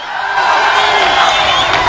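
A market crowd at a Kenyan political rally breaks into loud, steady clapping and cheering, a dense wash of applause and voices sustained for about two seconds.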